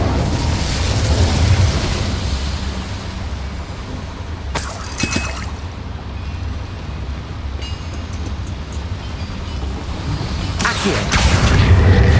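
A boiler blowing up from an Incendio fire spell in a fantasy video game, a loud rumbling blast with sharp shattering bursts over continuous heavy low roar, close and dense.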